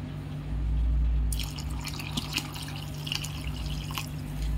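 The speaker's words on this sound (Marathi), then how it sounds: "आता यामध्ये आपण कोमट पाणी घालूया" Lukewarm water poured from a vessel onto washed sabudana in a bowl, a splashy trickle and dripping that starts after a brief pause and carries on close up, fairly quiet, with no talking.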